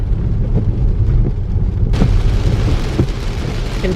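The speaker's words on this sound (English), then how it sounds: "Considering the intensity of the rain," Heavy rain pouring down hard and steady, a dense loud roar with occasional low rumbles and thumps, the hiss brightening sharply halfway through.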